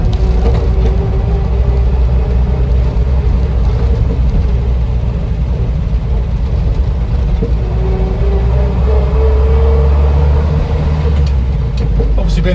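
A 1976 Land Rover Series III 109 pickup drives on a hot day, its engine a loud, steady low rumble heard from inside the cab with road noise and no talking.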